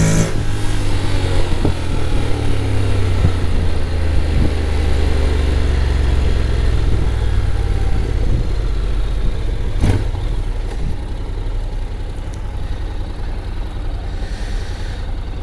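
A Honda Forza 750 scooter engine drones loud and steady while riding, a continuous low rumble with shifting revs and wind noise, no voices over it.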